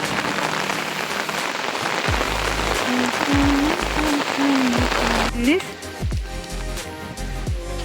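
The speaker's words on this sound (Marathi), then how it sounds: "इकडे मस्त पाऊस पडतोय" Heavy monsoon rain in Konkan pours in a dense, steady hiss on surfaces, loud and close, while a person speaks over it.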